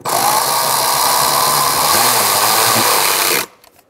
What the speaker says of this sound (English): Tighten up your hose clamp.